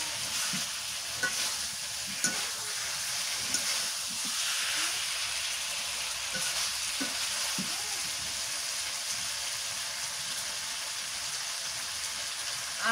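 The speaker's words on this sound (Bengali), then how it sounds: "এখন এই যে কড়াইয়ের মধ্যে দিলাম না দিয়ে এটা ভালো করে খালি নাড়াচাড়া করবো ভালো করে ভাজতে লাল লাল করে" Broiler chicken pieces hiss and crackle as they fry in a wok without water, while a spoon stirs them in repeated scraping strokes; the sizzle stays steady and close, with no speech.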